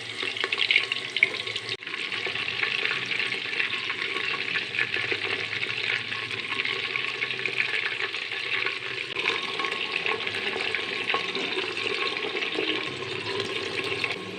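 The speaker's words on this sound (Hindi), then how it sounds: "इसको हमने इसी घी में फ्राई करना है" Minced meat keema fries in ghee in a handi pan, a steady soft sizzle and crackle that runs evenly throughout at moderate volume with no talking.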